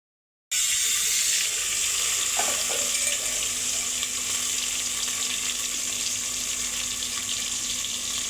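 Cumin seeds and dried red chillies fry in hot oil on a stove, a loud, continuous close-up sizzle and crackle that starts abruptly and holds steady.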